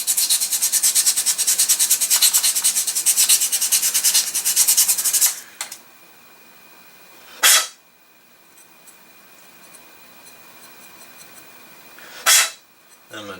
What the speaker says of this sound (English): I'll take a little bit of 400 sandpaper, and I'm going to sand the end like we did before